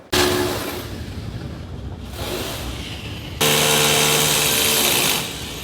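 A power drill whirs in bursts as it drills into a mesh frame, a short run, a pause, then a louder sustained run that cuts off near the end, with no voices.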